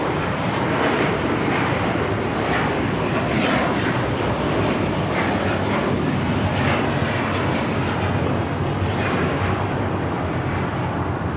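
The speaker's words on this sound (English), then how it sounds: "This is Qatar Airways 740 taking off to Doha on the A350 1000." A Qatar Airways Airbus A350-1000 takes off at LAX, its jet engines giving a loud, sustained broadband roar that holds steady throughout with no talk over it.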